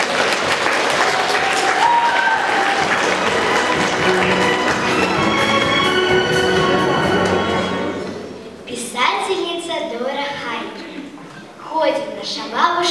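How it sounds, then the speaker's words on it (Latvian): Audience applause at a school talent contest in Latvia, dense steady clapping from a crowd that fades out after several seconds into a few scattered claps. "Sagaidiet ar aplausiem."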